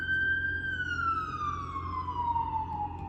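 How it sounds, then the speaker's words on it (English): An emergency siren passes outside, a single wailing tone sliding gradually downward in pitch as it moves away, moderately faint over a low background hum, with no talking. "You hear that? The siren?"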